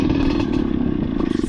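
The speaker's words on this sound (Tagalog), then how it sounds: "Kada tumatalbog ito ay namamatay ang makina." A dirt bike engine running rough at close range, a steady rattly drone whose pulses grow uneven toward the end, as from a motor suspected of having water in the fuel.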